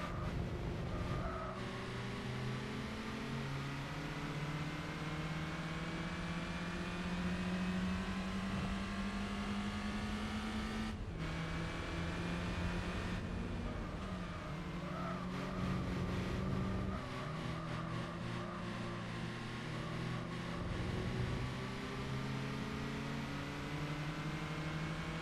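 Race car engines in Gran Turismo 4, a steady whining drone rising gradually in pitch with a few sharp shift drops, other cars droning faintly alongside, sustained and moderately loud with no talking.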